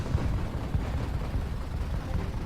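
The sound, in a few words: fireworks exploding in Donkey Kong Country Tropical Freeze video game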